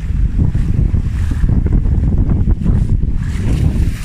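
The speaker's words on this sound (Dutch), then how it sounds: "de golven worden wel steeds erger" Rough sea waves break and wash onto a beach under steady, loud wind buffeting the microphone, a continuous close roar with no talk.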